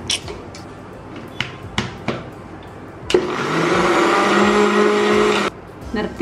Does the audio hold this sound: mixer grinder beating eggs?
yes